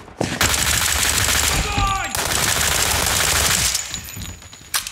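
A SIG SMG fires in the video game World War 3, a loud, dense stream of rapid automatic shots running almost continuously over the whole stretch, with a brief break near the end.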